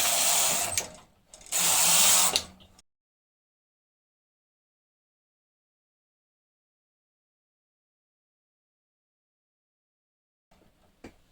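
A knitting machine carriage is run across rows of a sweater back panel in two quick mechanical passes, each a loud raspy whir. Long silence follows, then faint clicks.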